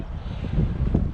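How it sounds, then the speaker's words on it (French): Wind buffets the microphone on a golf course in a brief, gusty rumble of low, uneven noise, with no talk. "désolé encore pour le vent"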